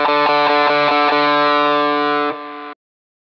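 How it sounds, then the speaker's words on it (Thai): Electric guitar overdrive from a Shark The Gain Drive Booster pedal with the gain maxed, a few rhythmic distorted strums followed by a long sustained chord that cuts off abruptly. "โอ้พอเปิดสุดนี้กลายเป็นโอเวอร์ไดรฟ์ที่รุนแรงขึ้นนิดนึงนะครับ"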